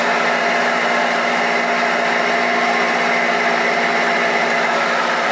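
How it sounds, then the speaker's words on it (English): A worn, noisy front wheel bearing spins on a front-wheel-drive car, giving off a loud, steady whirring drone with a grinding edge that holds constant throughout. "that wheel bearing's pretty noisy."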